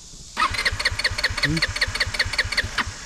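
A motorcycle engine fails to start, giving a rapid, even run of cranking chugs close by that never catch into a running idle, with a voice speaking briefly over it.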